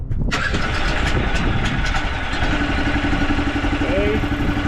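A gasoline engine on a rolloff trailer is pulled and cranks to life, settling into a loud, steady mid-pitched running rumble close by.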